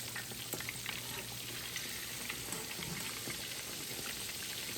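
Pork chops sizzle steadily in a hot frying pan after being flipped, a dense continuous crackle with small pops throughout, close and even with no talking.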